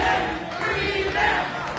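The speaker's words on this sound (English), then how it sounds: "The crowd seems to appreciate it too." A wrestling crowd cheers in a steady, dense roar that swells slightly and then eases, loud and enveloping, with a few voices standing out over the mass of noise and no distinct talk.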